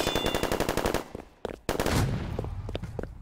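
Old-fashioned guns in Roblox fire a rapid, evenly spaced burst of loud shots, pause briefly, then fire a few more scattered cracks over background game noise.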